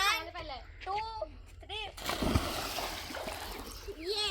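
Children splash and slosh in a village pond while swimming, with a broadband burst of splashing in the middle and children's voices calling out before and after it.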